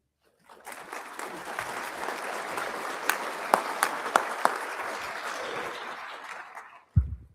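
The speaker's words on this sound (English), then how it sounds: "I always appreciate when I get applause before I say anything" An audience at a law enforcement training academy graduation ceremony bursts into sustained applause. The clapping swells, holds with a few sharp louder claps, then fades, and a short thump follows at the end.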